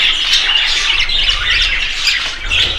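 Cockatiels squawk in a loud, close, continuous chorus of harsh overlapping calls, with no voices heard.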